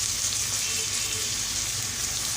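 Hot pepper and garlic cloves frying in a pan give a steady, close, loud sizzle with a dense crackling hiss throughout and no voices.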